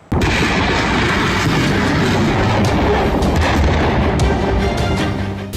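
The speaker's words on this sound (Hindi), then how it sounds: "INS इम्फाल से पहली बार ब्रह्मोस मिसाइल लॉन्च करके नौसेना ने ताकत की एक नई मिसाल पेश की है।" A BrahMos supersonic missile launching from the Indian Navy destroyer INS Imphal: a loud, continuous roaring blast that erupts almost at once and holds at full strength, easing slightly only at the very end.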